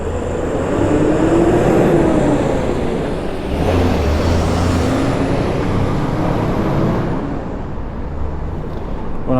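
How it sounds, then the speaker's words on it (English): A heavy wagon rumbles past on a construction site road at a new stadium build, a loud, steady low engine roar with a brief hiss of air brakes partway through and a high whine overhead. "Nearly got myself wiped out by a wagon there."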